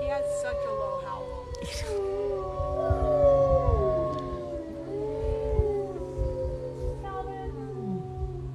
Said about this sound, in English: He has such a low howl.